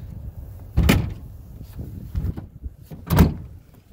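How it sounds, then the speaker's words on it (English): The tailgate of a 2021 GMC Sierra HD AT4 pickup, raised by hand, gives two solid, close clunks about two seconds apart, with a dull mechanical rattle between them and no talking. "I was able to put up that tailgate very, very easily with just one hand"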